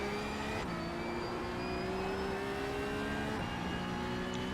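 Porsche Cup race car engine in a racing video game, a steady in-car drone with shifting harmonic tones and a brief dip as the revs change, moderately loud with no voices.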